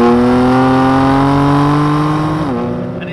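A 2015 BMW M3 on the track at Mid-Ohio gives a loud, close, sustained engine roar that climbs gradually in pitch, then drops sharply near the end as revs fall.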